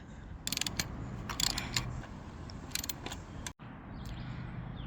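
A socket wrench ratchets in quick clicking bursts while loosening a stubborn bolt with a bolt extractor on a 420cc mini bike, the clicks close and fairly loud over a steady low background rumble, with a brief silent gap near the end.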